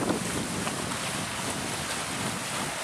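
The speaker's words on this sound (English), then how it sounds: "here goes the party boat" Steady broadband wash of wind and water with a party boat motoring past nearby in Manistee, Michigan, constant and fairly loud throughout, no voices.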